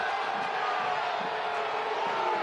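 A stadium crowd at a Sacramento Republic FC versus Colorado Springs Switchbacks FC soccer match gives a steady, sustained roar of reaction, broad and distant-sounding, with no single voice standing out.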